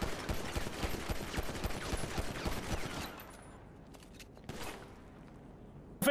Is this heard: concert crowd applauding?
no